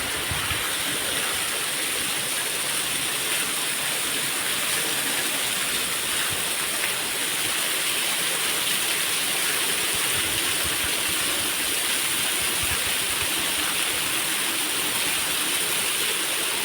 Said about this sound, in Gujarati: તો ફૂલ વરસાદ છે।